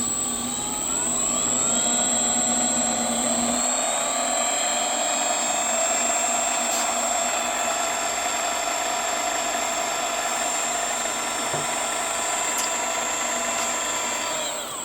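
A Sieg mini lathe fitted with a tachometer spins up, giving a loud, steady motor whine with a sustained high-pitched tone that holds level throughout, with no talk.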